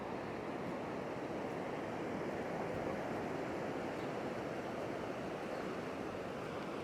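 Ocean surf rolls steadily at Klong Prao Beach on Koh Chang island on a foggy early morning, a continuous, even roar of waves with some wind rumble and no breaks or voices.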